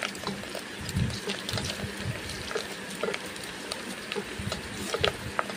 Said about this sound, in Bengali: পাঁপড়গুলো সর্ষের তেলে গরম তেলে ছেড়ে দিয়েছি তারপর নেড়ে চেড়ে ভেজে নিচ্ছি